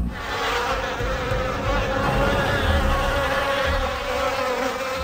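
Large wasps and other flying insects buzz in a dense, continuous drone that stays steady and fairly loud throughout, with no pauses.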